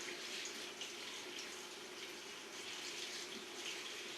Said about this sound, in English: Back this off a little bit. I want to slow my drain down some.